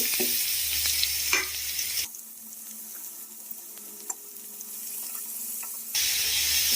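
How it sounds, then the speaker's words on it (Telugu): Grated cabbage fries in a pan and is stirred, giving a steady close sizzle with scraping strokes; the middle stretch drops quieter and duller, as if muffled, before the bright sizzle returns. "పచ్చివాసన పోయేంత వరకు కూడా మనం దీన్ని ఫ్రై చేసుకోవాలి"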